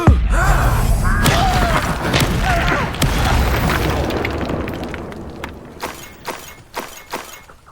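A Confringo spell in Hogwarts Legacy sets off a loud boom at the very start, followed by a long rumbling, crackling decay of debris with scattered sharp impacts fading out.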